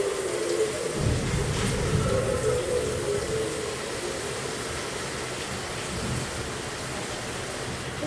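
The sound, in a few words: heavy rain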